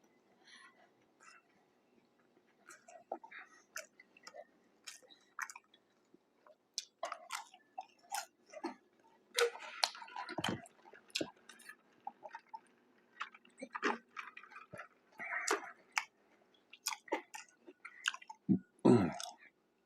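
Close, quiet chewing and biting into a Mr. Submarine cold sub: soft wet squishes and occasional crunchy bites in an irregular rhythm, with brief murmurs between mouthfuls.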